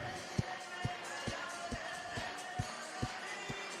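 Stadium crowd at historic Grayson Stadium in Savannah clapping in steady unison, about every half second, during a Savannah Bananas baseball game, with crowd noise and music filling the background.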